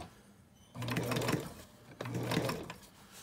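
Sewing machine fitted with a walking foot, starting in reverse on pocket fabric, runs in two close, loud bursts of rapid stitching with a brief pause between them.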